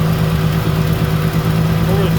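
A car engine idles steadily after repair, a loud, close, even hum with a constant low drone, while someone talks over it.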